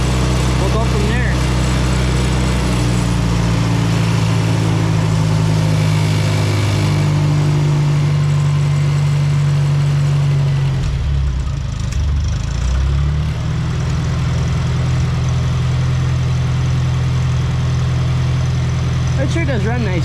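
An International Cub Lo Boy tractor engine idles steadily and close by with a low, even drone, its pitch dipping briefly midway before settling back.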